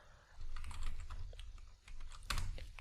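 Python code being typed on a computer keyboard, a quiet run of irregular key clicks with a sharper keystroke near the end, no talking.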